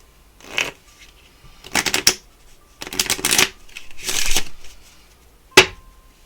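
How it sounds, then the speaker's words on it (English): A deck of tarot cards is shuffled in several separate bursts of rapid riffling and flicking close by, with a sharp card snap at the end and no speech. "why don't you just shuffle and deal in order?"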